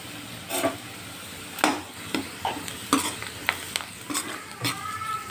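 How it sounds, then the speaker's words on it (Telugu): Onions frying in a pan with turmeric, a steady sizzle broken by repeated scraping stirs of a spatula against the pan, close and loud with no talking. "చూడండి ఇక్కడ ఆనియన్స్ కూడా ఫ్రై అవుతున్నాయి"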